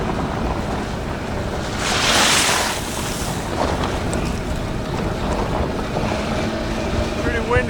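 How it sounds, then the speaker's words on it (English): Strong wind on a farm near a barn roars and buffets the microphone in gusts, with a loud surge partway through and a constant rushing bed of noise. "Windy out here, so I don't know how well you guys can hear me"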